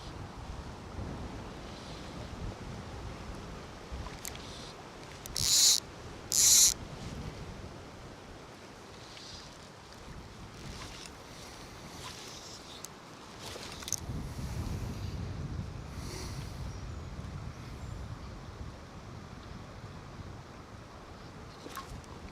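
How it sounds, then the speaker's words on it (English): Wind gusts blow over the River Vyrnwy on a windy afternoon, a continuous rushing, buffeting roar against the microphone with a few sharp clicks and surges in strength; no one speaks. "because you've got the wind blowing upstream."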